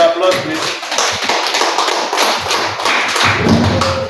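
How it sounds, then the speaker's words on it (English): Audience applause after a counseling ethics and qualifications talk, a steady wash of clapping hands with soft thuds, sustained and fairly close, with a voice speaking over it. "Round of applause, please"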